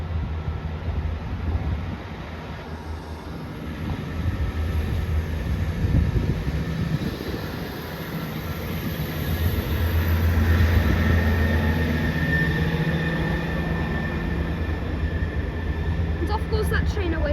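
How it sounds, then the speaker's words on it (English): A ScotRail class 158 diesel unit, 158702, pulls out of Haymarket on the Edinburgh Waverley to Leven service, its steady rumbling drone holding for the whole stretch and swelling slightly midway before easing as it heads away. "Goes that train away into the distance, calling at all stations apart from South Gyle."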